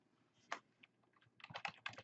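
Typing on a computer keyboard, close and quiet, a few isolated keystrokes followed by a quick flurry of clicks.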